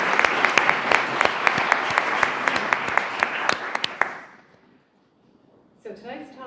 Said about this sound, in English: a round of applause for our sponsors